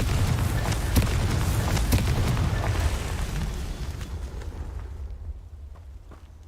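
A Confringo fire spell blast in the Hogwarts Legacy video game gives a loud, dense, roaring burst that sustains for several seconds and then fades away with a few crackling snaps, with no speech.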